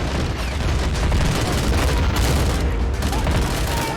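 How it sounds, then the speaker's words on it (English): Heavy gunfire in a video game battle: dense, continuous bursts of shots with booming grenade blasts mixed in, loud and close, forming a sustained roar of combat with no pause. "Heavy fire. With the grenades as well."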